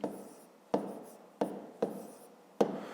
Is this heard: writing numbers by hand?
yes